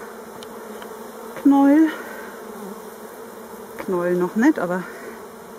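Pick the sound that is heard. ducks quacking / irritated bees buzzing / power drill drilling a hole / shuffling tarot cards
irritated bees buzzing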